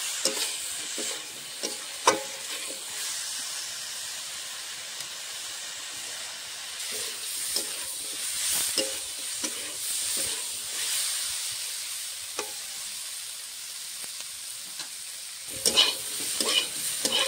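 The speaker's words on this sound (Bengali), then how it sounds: "আর কিছু দেবো না, ভেজে ভেজে নেবো ভালো করে।" Beans and peas with spices stir-fried in a pan: a soft steady sizzle and hiss with frequent scraping and tapping strokes of the spatula, some louder clatters near the end, close and moderately quiet, without speech.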